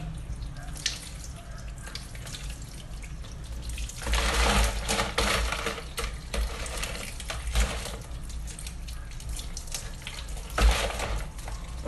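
Water poured from a tap over crabs in a basin for washing, a close continuous splashing stream with swells of louder gushing and scattered knocks and clatter.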